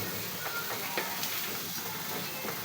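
Onion and garlic sizzle steadily in a little oil in a pan, a constant hiss with faint crackles and the occasional stir, no voices.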